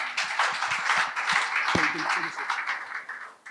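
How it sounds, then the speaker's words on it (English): Audience at a masterclass session clapping, a moderate spread of applause with a few individual sharp claps standing out and people talking over it. "Let's give them a round of applause"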